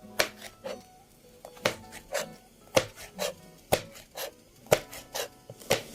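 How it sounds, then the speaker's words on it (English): Red chilies sliced with a knife on a cutting board while making steamed tofu, sharp distinct chops in an uneven rhythm, close and clear with no talk. "Now you slice the chilies"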